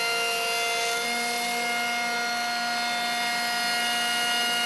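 A Vector Revolution 180 contour edge bender with its glue nozzle runs steadily and loudly, giving a constant machine drone with a high, steady whine and no break or change in rhythm.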